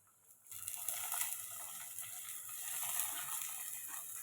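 Spinach with garlic fries lightly in a clay pot, giving a faint, continuous sizzle and crackle that starts abruptly after a brief silence and keeps steady.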